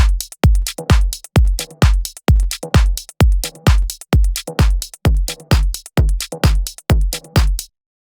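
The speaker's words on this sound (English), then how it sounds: "So you can hear that right now we have audible distortion." A punchy drum loop driven into audible saturation distortion by an Acustica audio plugin, with about sixteen loud, evenly spaced hits whose gritty tails stop abruptly near the end.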